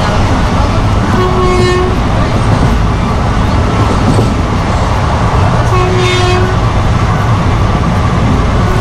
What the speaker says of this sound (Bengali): আমাদের ট্রেন নিজের গতিতে ছুটে চলেছে মায়াপুরের উদ্দেশ্যে